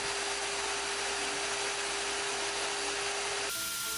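A Kydex sheath overlay being rough cut with a power tool, a loud continuous buzzing whine that shifts pitch near the end.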